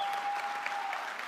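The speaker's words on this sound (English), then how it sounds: "I appreciate the applause." Audience applause in a university lecture hall at a campus talk, a soft, diffuse wash of clapping heard at a distance, steady and fairly faint, with a brief thin tone running under it.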